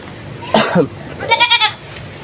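A goat, a live animal brought as an offering, bleats twice at close range: a short cry, then a longer wavering one, with no talk.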